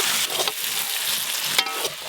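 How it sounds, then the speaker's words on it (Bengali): Chopped tomatoes go into a pan of frying ginger, garlic and onion for a chicken curry, producing a loud, continuous sizzle with a few scraping stirs of a spoon and no speech. "এবার টমেটো কুচিগুলো দিয়ে দেবো।"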